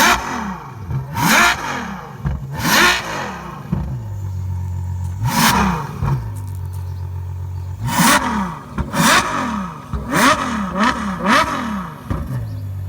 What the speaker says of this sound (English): let's rev this thing up